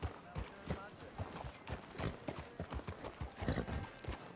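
In Red Dead Redemption 2, horse hooves clip-clop in a steady, close rhythm on a town street, with game voices talking faintly over the hoofbeats.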